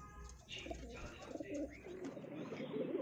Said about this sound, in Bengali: এই যে মাদি পায়রাটা